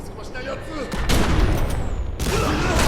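Video game gunfire in The Secret World comes as loud, dense bursts of rapid shots that swell through the middle and continue to the end, with people talking over the shooting.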